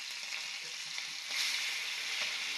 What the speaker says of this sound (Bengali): বাকি মাছও ভেজে নিচ্ছি একইভাবে।